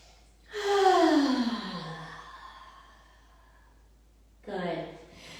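A deep, audible exhale at a guided hot-flow yoga class, a long breath that tails off slowly, followed after a pause by a second, shorter breath; no speech over it.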